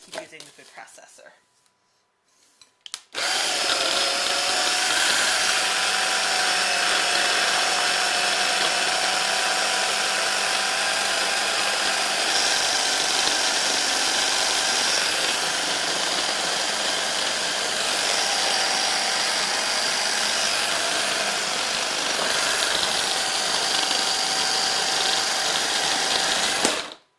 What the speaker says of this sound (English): I already have the food processor dirty, so I'm just going to keep using the food processor